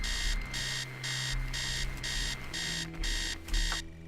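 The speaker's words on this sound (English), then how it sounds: "Turn off alarm." An alarm rings in the horror video game Stories Untold, a loud electronic beeping in steady repeated bursts with short gaps, continuing close and insistent before cutting off at the end.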